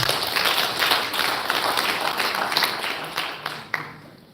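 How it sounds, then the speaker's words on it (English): Audience applause at a Uganda National Examinations Board event, a sustained wash of many hands clapping that tapers off toward the end. "Please give them another round of applause"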